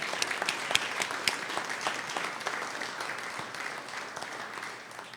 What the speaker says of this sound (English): how about a big round of applause for the whole family?